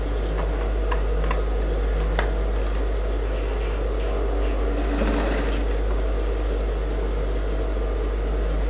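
A sewing machine stitches at a normal stitch length, neither fast nor slow, giving a steady close whir with a light ticking rhythm throughout and no voices.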